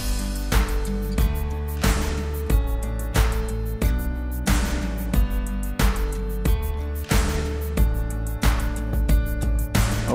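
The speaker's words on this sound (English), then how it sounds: "And all together would sound like this with the piano and the drums and the bass." Full song arrangement with guitar, piano, drums and bass playing together, a steady rhythmic mix with regular drum hits and sustained chords throughout, loud and close with no talking.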